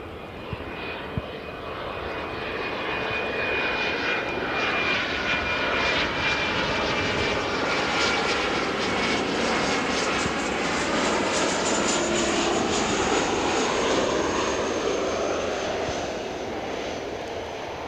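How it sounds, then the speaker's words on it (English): A United Boeing 787-9 jet airliner in a special sustainable aviation fuel livery flies in, its steady, loud engine roar filling the whole stretch with a broad rushing drone and a faint high whine, and no one speaking. "looks like we've got a fancy jet coming in"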